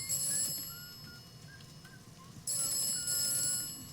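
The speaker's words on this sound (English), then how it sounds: "next to a ringing telephone booth" A telephone rings inside a phone booth in the video game Atomfall, with repeated bright electronic trills over a quiet, murmuring game background.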